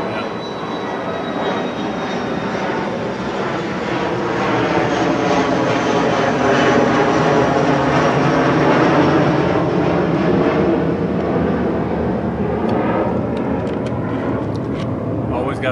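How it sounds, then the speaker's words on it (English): An airplane passes overhead, a loud broad engine roar that swells toward the middle and eases slightly at the end, continuous throughout, with someone talking over it. "Always got to be a plane."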